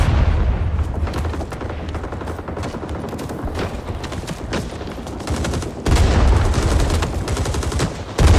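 Gunfire in the Rising Storm video game: dense, loud, continuous rattling bursts of rifle and machine-gun fire with booming reports, close and overlapping throughout.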